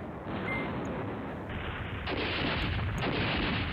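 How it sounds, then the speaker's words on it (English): In the Command Ops 2 war game, an airstrike brings a dense, continuous rumble of explosions and gunfire that grows louder partway through and holds steady to the end. "Let's drop an airstrike over here."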